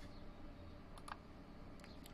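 Keystrokes from someone typing on a computer keyboard, a short cluster of faint clicks around the middle and another near the end over a quiet, steady background.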